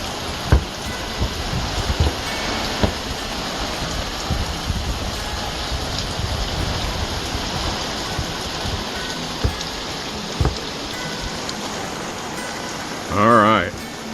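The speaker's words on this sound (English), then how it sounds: "It's been raining." Rain falls steadily on thirsty garden ground in a continuous even hiss with occasional drops and thumps, and a brief voice sounds near the end.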